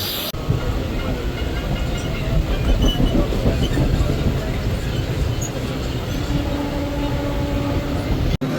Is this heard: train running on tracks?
yes